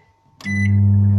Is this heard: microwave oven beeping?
yes